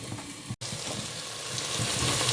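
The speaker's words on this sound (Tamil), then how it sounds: "நம்ம மூடி வச்சுட்டு பொரிய விடுங்க" Spices for avarai kulambu fry in a covered pan with a steady, dense sizzle, close and fairly loud, broken once by a brief dropout, with the hiss slowly growing.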